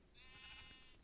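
Sheep bleating in a hardcore-mode survival video game, a short faint call heard alone without talk.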